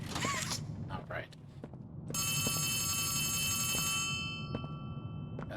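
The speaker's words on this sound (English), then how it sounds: "Got a phone call." A telephone rings in the video game Poppy Playtime Chapter 4, a sustained bright bell tone of about two seconds rising over footsteps and ambient game noise.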